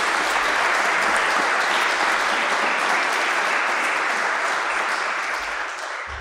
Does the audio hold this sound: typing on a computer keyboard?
no